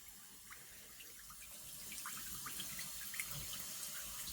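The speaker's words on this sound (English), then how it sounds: "Wash your hands." Water runs from a sink tap during handwashing before bread making, a steady splashing hiss with small droplet patters that grows slightly fuller toward the end.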